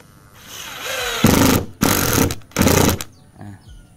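A Makita TD110DZ 12V cordless impact driver runs in three loud bursts, each lasting about half a second, with its hammering impact rattle. Softer motor whirring comes before the bursts, and the tool winds down afterward.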